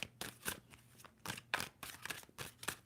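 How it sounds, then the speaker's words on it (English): Tarot cards are riffled and shuffled in a series of quick papery bursts with short pauses between them, close and fairly quiet, with no talking. "2 more shuffles."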